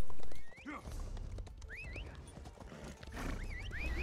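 Horse hooves gallop steadily in The Elder Scrolls Online during PvP, a clip-clop rhythm under game music, with synthetic whinny-like swoops and occasional mechanical clicks; no talking.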